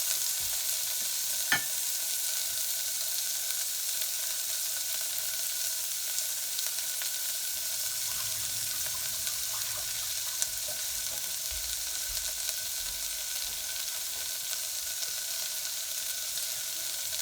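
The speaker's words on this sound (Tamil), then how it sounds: "தக்காளி சேர்த்திட்டு நல்லா ஒரு நிமிஷம் லைட்டாக வதங்கட்டும்." Tomatoes sauté in a hot pan for a horse gram dal, a steady bright sizzle running throughout with a single sharp clink near the start and faint stirring beneath.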